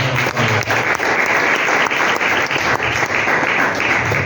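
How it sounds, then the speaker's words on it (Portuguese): Church congregation clapping in praise during a Portuguese-language service, steady dense applause filling the room throughout without a break. "exalte o Senhor com as palmas."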